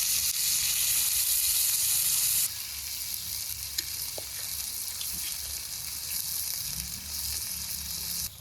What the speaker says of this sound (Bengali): উল্টে পাল্টে ঢেকে ঢেকে ভাজা ভাজা করে নিলাম